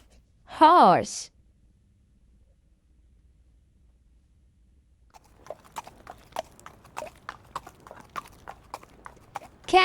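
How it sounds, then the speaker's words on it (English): A horse's hooves clip-clop in a quick, uneven series of sharp taps that begin midway and keep going, after an opening burst of a different sound and a stretch of near silence. "horse"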